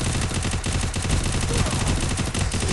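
Dense, continuous automatic gunfire from a Free Fire clash squad ranked match in a video game, loud and unbroken throughout, with a voice faintly mixed in.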